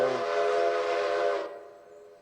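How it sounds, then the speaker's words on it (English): Locomotive air horn on a freight train, one loud sustained chord-like blast from close by, holding steady for over a second before cutting off, leaving a faint tail of rumble. "toots on the air horn there"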